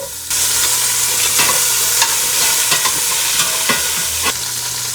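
Carrots fry in a turned-down pan with celery, giving a steady sizzle throughout, broken by occasional scrape-and-clack stirring sounds, close and fairly loud with no talking.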